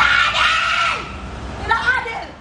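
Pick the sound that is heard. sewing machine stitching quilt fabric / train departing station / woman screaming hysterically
woman screaming hysterically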